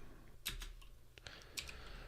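Quiet, close clicking of a computer keyboard, a few scattered keystrokes in two short bursts over a faint steady room hum.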